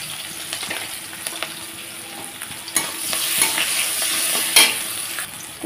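Black cumin seeds and green chillies tempering in hot oil for a Bengali mustard pointed-gourd dish, a steady close sizzle with scattered crackles and pops. No one speaks over it.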